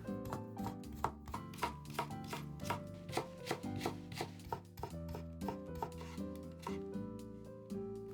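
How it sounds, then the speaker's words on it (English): Rolled vegetable leaves for a shabu shabu hot pot chopped with a knife on a board, a rapid, even run of crisp cuts over a bed of soft background music, close and fairly quiet. "And then I chop them."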